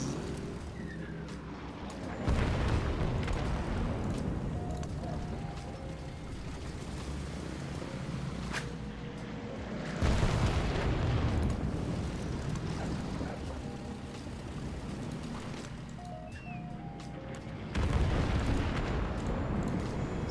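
Cannon fire and explosions in the strategy game Charlemagne: three heavy booming blasts roughly eight seconds apart, each with a long rumbling tail, over a constant low battle rumble.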